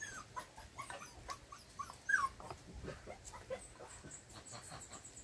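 Dogs whimper and whine in short, faint bursts, with soft yelps scattered over a quiet background.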